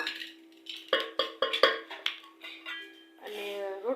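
A bowl is handled in a village home kitchen, giving a series of sharp metallic clinks and knocks in a quick cluster, close by, with a person talking at the start and end.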